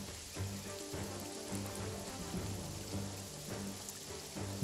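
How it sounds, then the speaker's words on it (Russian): Steady rain in the video game Jagged Alliance 3, a dense, even hiss of falling drops with a low rumbling undertone throughout, no voices. "Дождь мешается."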